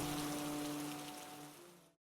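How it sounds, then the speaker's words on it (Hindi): Steady rain falling in a village setting, a dense continuous hiss with a low tonal hum beneath, loud and unbroken before cutting off abruptly near the end. "आज तो ये बारिश रुकने का नाम ही नहीं ले रहा है।"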